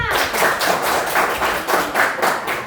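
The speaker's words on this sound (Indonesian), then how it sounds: "Tepuk tangan buat kita semuanya, mana?" A classroom of children clapping hands together in a steady run of about six bright, close claps over a couple of seconds, with faint murmuring beneath.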